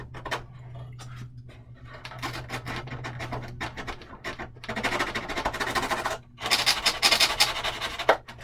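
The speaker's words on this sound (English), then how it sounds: "stick it to this scrap piece of plywood I have, and I make myself a small little sanding stick." A small homemade sanding stick, sticky-back sandpaper mounted on a scrap of plywood, rasps back and forth in bursts of close, rough scrubbing strokes, with short pauses and a steady low hum underneath.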